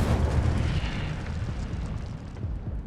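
The Incendio fire spell cast in the Hogwarts Legacy video game, a low, rumbling burst of flame with a soft roaring whoosh, moderately loud and fading over a few seconds.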